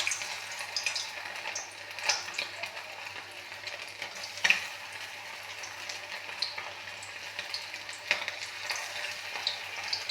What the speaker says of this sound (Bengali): তেল গরম, কড়াই বসিয়ে দিয়েছি, তেল গরম হয়ে গেছে। আমি ছোট ছোট পকোড়া আকারে আমি ভেজে নেব।